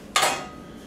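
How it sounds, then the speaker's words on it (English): A Chef Tony's Miracle Meat Loaf Pan being handled gives a single short, bright metallic clank up close, ringing briefly before fading. "and then here's the meatloaf pan itself"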